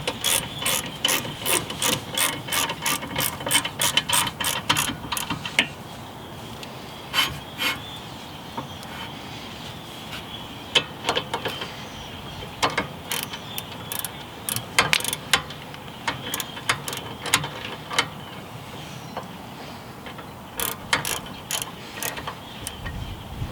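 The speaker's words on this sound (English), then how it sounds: "I'm gonna fully tighten up that bracket" Rapid ratchet clicking as a wrench tightens the rear brake caliper bracket on a 2010 Nissan Altima, a dense burst of clicks at first, then shorter spaced runs of ratcheting close up with no talk.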